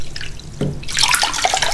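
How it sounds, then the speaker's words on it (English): Quite hot water runs from a tap into a sink while a hamster cage is being cleaned, a steady close rushing splash that starts after a brief knock and continues to the end. "I'm just gonna run like some quite hot water"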